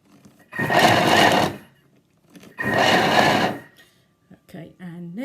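A Thermomix TM6 on turbo grates cheese into dough in two loud, close bursts of whirring blades about a second long each, separated by a pause, with a voice speaking briefly near the end.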